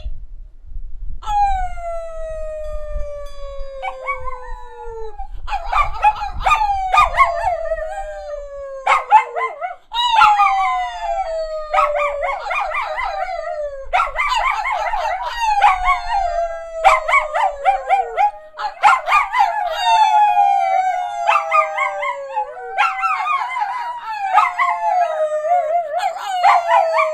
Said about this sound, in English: Bear and Frida, I think we need to give a little howl